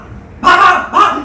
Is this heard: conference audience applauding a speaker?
no